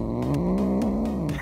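Close, steady purring of a cat with a continuous low rumble pulsing in a gentle rhythm, heard alone for a brief moment.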